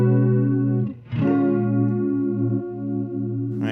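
Electric guitar through an EarthQuaker Devices Sea Machine chorus pedal, animate set low and intensity high: a sustained chord with a slow wavering modulation, struck again just after one second and once more at the very end.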